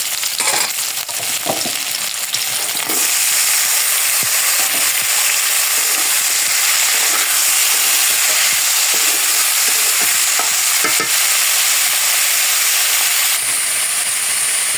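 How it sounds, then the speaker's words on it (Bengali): Panch phoron, green chillies and dal sizzle loudly in hot oil, a steady bright crackle that runs throughout, with occasional clinks and scrapes of stirring. "এই যে পাঁচফোড়ন দিয়ে দিলাম, এই যে কাঁচা লঙ্কা দিয়ে দিলাম, ডাল দিয়ে দিলাম।"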